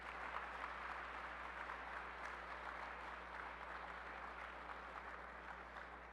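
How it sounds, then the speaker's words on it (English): Steady applause from an audience of college and university students at an urban policy forum, a dense, even patter of clapping held at a distance throughout over a low steady hum. "Let's give them a round of applause"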